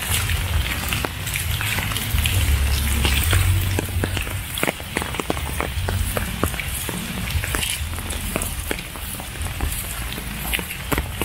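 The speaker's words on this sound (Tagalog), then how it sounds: "Sana tumila na yung ulan." Steady rain patters on a surface in the Philippines with scattered sharp drips and taps, a continuous wet hiss throughout, no voices.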